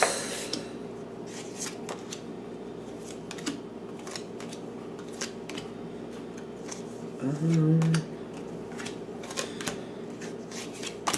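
Tarot cards shuffled and handled in a reading, giving soft repeated riffles and taps that run steadily throughout under a low background hum.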